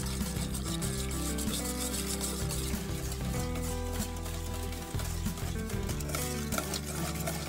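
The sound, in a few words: mixing tofu with honey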